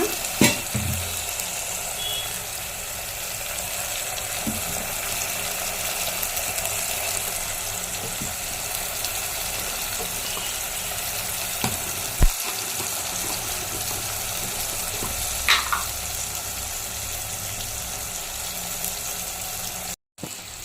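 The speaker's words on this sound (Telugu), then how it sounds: "దీంట్లోకి ఏమంటే కాకరకాయ తాలింపు పెట్టుకున్నాను." Bitter gourd tempering sizzles steadily in a pan with chili powder going in, a continuous broadband frying hiss with a few faint knocks and scrapes, close and even throughout with no talking.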